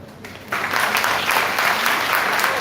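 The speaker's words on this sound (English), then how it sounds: "A huge round of applause for all the performers who brought such an important issue to the light" An audience at a college event applauds performers, clapping swelling in after a quieter moment and then holding as a full, steady crowd ovation.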